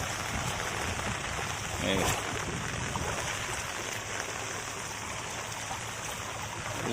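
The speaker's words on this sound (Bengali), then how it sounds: "এই যে ওইদিকে পানি ঢুকছে ওইটা" Rainwater running off flooded farm fields into a pond after a night of heavy rain, a steady trickling, splashing wash of water heard close and continuous throughout.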